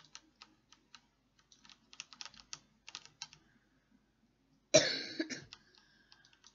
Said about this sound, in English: God, I still got my cough.